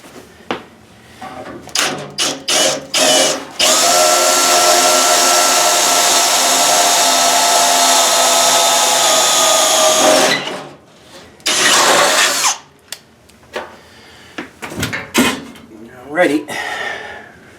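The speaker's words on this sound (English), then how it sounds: "And then we'll drill that one." A power drill runs in one long, loud continuous burst during an HVAC installation, preceded and followed by short bursts of handling noise and brief talk.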